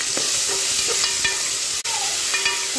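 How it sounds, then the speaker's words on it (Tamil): Chopped tomatoes sautéing in a pan for a vegetable salna, a steady loud sizzle with light, regular stirring clicks and scrapes throughout. "இப்போ கட் பண்ணி வச்சுருக்கிற தக்காளி சேர்த்துக்கலாம்"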